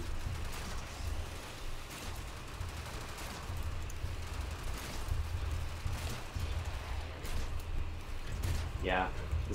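Gunfire in the Warframe video game, a steady dense rattle of rapid shots layered with game effects and a rising synthetic tone near the end, with voices talking over parts of it.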